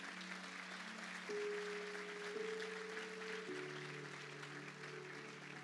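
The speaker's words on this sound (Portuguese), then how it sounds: "Pode aplaudir o Senhor." A church congregation applauds, a soft wash of clapping heard at a distance under sustained organ or keyboard chords that shift pitch a few times.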